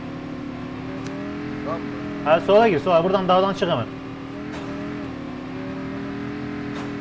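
A car engine hums steadily in Call of Duty Mobile, a low, sustained drone with a slight rise in pitch, while players talk briefly over it partway through.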